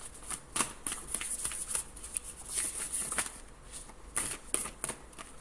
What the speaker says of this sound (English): These are really hard to shuffle.